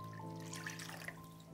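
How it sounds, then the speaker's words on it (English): Water pours and trickles steadily into a pot of chicken bones for a broth, a close, continuous liquid splashing that runs for about a second and a half with no talk. "Boil them over high heat with 50 centiliters of water"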